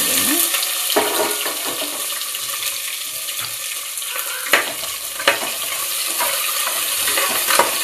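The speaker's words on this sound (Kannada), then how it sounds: "ಫ್ರೈ ಮಾಡಬೇಕು ಈ ಥರ." Sliced onions with dried red chillies fry in a pan for tomato bath, a steady close sizzle with scattered spatula scrapes and a few sharper clicks of stirring.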